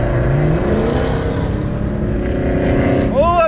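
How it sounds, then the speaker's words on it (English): Dodge Hellcat V8 rumbling loud and close from inside the car, a deep throaty drone with gear-change shifts in pitch, ending in a brief rising rev. "Oh, a V8. I love the power of a V8, man."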